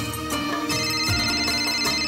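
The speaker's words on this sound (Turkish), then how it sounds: "Telefon çalıyor." A telephone rings in a Turkish children's comedy show sketch set around a school service bus, its electronic ringtone repeating steadily and loud for the whole moment with music-like tones beneath and no talk.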